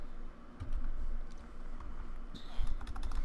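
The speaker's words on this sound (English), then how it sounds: "Wow, horrible at typing." Fast, uneven computer keyboard typing, with a run of light clicky keystrokes close to the microphone over a low background hum.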